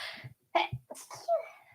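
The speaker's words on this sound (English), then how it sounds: "That's how you sneeze." A person gives one sharp, close sneeze amid soft breathing and short vocal sounds, with no other noise around.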